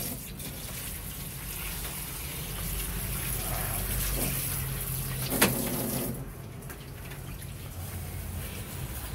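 Running tap water pouring steadily while water spinach leaves are rinsed in a kitchen, a continuous close gushing with a brief splash midway before the flow eases.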